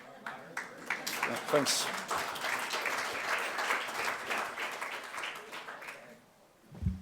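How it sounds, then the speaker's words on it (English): Scattered, moderately loud applause from a conference audience in Athens, rising and then tapering off, with a voice briefly speaking near the end. "So this time you applaud me."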